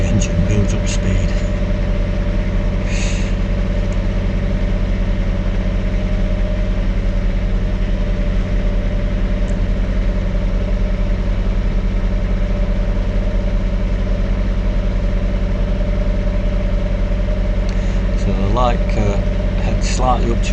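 A ferry's engine drones loud and close as the boat builds up speed crossing the Manchester Ship Canal, a steady low hum holding through the clip, with a voice speaking over it.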